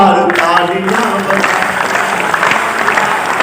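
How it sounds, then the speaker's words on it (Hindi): Loud audience applause rises at a poetry gathering held for Independence Day, a dense steady wash of clapping that fills the space after a few opening voices fade. "एक बार जोरदार तालियां बजाइए।"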